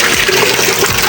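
Water gushes steadily into a washing machine being filled for laundry, a loud, continuous rushing flow with no pauses.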